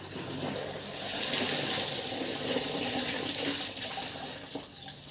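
Water streaming and dripping heavily from wet, hand-washed clothes left unwrung, a steady close rushing pour throughout, no talking.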